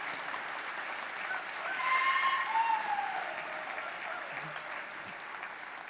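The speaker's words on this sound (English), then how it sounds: "A warm round of applause." Faint, distant applause at a county inauguration for a new prosecuting attorney, a steady wash of many hands clapping with a slight swell in the middle, and a brief tonal squeal rising over it.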